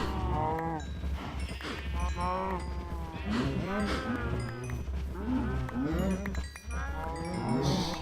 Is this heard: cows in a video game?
yes